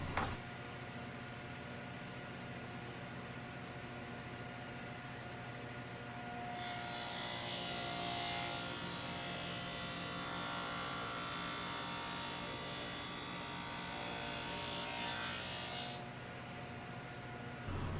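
A power saw cuts through a board for a drill press tabletop, rising into a loud, steady whine partway through and holding for several seconds before dropping back to a lower motor hum.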